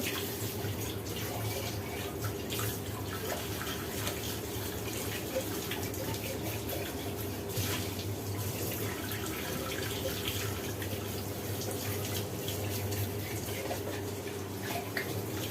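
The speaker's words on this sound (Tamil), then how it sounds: "அவ்வளோதான் இப்போ பார்த்தீங்க அப்படின்னா நான் வாஷ் பண்ணிடுறேன்" Steady tap water pouring at close range throughout while a pan is washed clean, with a constant rushing flow and faint splashes, no talking.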